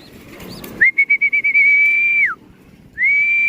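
Birds in a pigeon loft give a run of quick chirping pulses, then a long steady whistle-like tone that drops off, followed by another sustained whistle. The sounds are close and clear over a quiet background.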